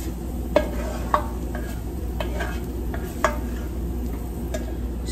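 Shrimp sizzle in a pan for a garlic shrimp pasta, a steady close hiss with a few sharp utensil taps and stirring scrapes at intervals.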